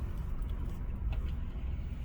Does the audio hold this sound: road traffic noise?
yes